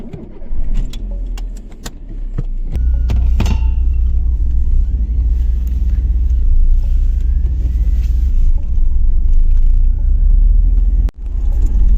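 A car pulls away from a roadside stop, its low engine rumble rising and holding steady and close from inside, after a few light clicks and knocks at the start.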